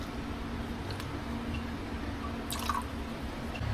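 Soft trickling and dripping of witch hazel poured into an apple cider vinegar mixture, quiet and close, with a brief splashy pour near the end.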